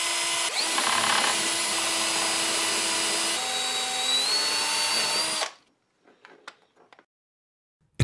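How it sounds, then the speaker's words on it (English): A power drill whirs steadily and loudly for several seconds, shifts pitch briefly, then stops, followed by a few faint clicks and knocks. "But I need to drill from the outside"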